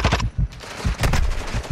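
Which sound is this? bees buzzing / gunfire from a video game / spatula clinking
gunfire from a video game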